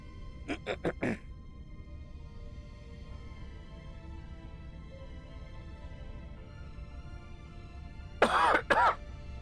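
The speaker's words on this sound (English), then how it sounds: "I'm sorry about the cough, guys." A person coughs and clears their throat in short bursts near the start, then the room goes mostly quiet under a low hum, and two louder, harsher throat-clearing coughs come close to the end.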